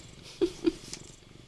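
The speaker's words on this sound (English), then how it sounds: "They're just purring up a storm." Domestic cats purring indoors, a soft low rumble with two brief louder pulses and a faint higher meow-like tone, close and quiet with no talk.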